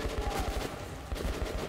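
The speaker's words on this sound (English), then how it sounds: "Who's shooting at me?" Rapid bursts of video-game gunfire in Metro Last Light crackle in a fast, loud volley lasting under two seconds.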